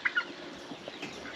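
Brief clucking from poultry, a couple of short calls near the start, then quieter scattered clucks over a low background murmur.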